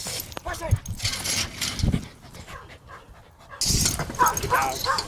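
Several dogs chasing rats, panting and barking in short bursts at close range while people shout encouragement over them.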